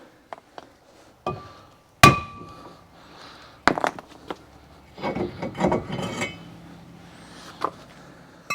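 Several sharp metallic blows ring out at irregular intervals as a hammer knocks a brake disc off a Holden Commodore front hub, one loud strike followed by scattered knocks and scraping, close by.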